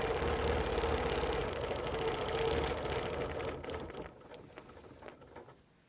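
A sewing machine stitches a quilt in a steady, fast mechanical whir that runs loudly for about four seconds, then turns sparser and quieter as the stitching slows and stops.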